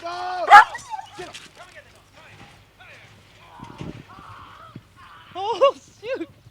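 A police dog barks and yelps sharply during the apprehension of a suspect, with a few loud bursts at the start and end, under shouting voices and scuffling.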